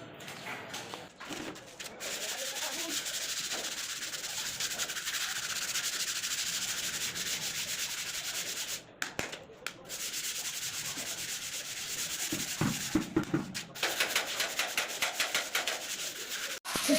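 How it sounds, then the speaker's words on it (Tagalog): Steady, close scratchy rubbing of sandpaper on dried wall putty goes on continuously, broken by a couple of short pauses and uneven strokes near the end. "Bali, lilihain muna namin bago pinturahan mga ka-idol."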